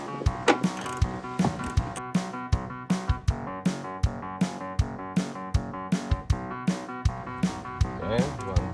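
A ratchet turns a 10mm socket on a screw during a 2009 Nissan Versa high-mount stop lamp replacement, giving a close, steady run of sharp metallic clicks at an even rhythm.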